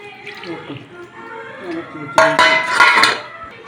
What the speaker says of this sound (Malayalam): ഉപ്പ് ഇത്തിരി വെള്ളവും കൂടി ഒഴിച്ച് കഴുകി വെക്കണം.